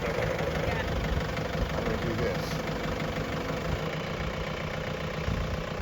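A tractor engine idles steadily at a mower setup, a constant low rumble running through the whole stretch while someone speaks over it.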